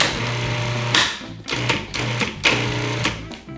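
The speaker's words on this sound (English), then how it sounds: "We add it to a food processor." Food processor pulses gluten-free flour, salt and sugar for a sweet pie crust, several short whirring bursts up close, each stopping abruptly, alone without speech.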